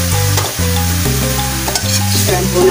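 Chicken fries in a pot for tinolang manok, a loud, close sizzle broken by repeated stirring scrapes and clanks against the pot.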